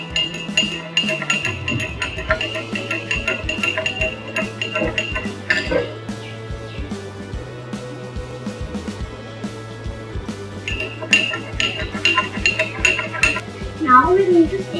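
A bubble solution mixture is stirred in a container, giving rapid clinking and scraping of a utensil against the vessel, continuous and close, under background music.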